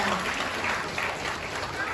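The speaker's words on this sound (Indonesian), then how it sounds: "Tepuk tangan dong." Applause from a crowd at a sixth-grade primary school graduation fills the room, a steady wash of clapping lasting a couple of seconds.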